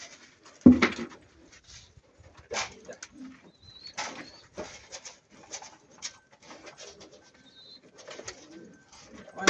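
Pigeons coo softly in a loft of newly bought birds, low rolling calls repeating at intervals with scuffling and rustling, while someone talks quietly now and then.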